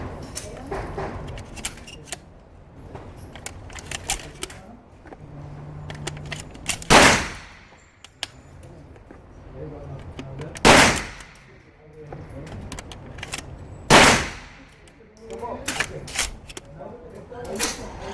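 A shotgun fires three loud, booming shots spaced a few seconds apart, each ringing briefly before fading, with people talking quietly between the blasts.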